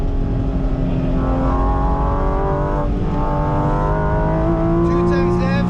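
Porsche GT4 RS engine pulling hard on the Nordschleife, a loud in-cabin drone rising and falling through gear changes as revs climb, with a voice talking over it.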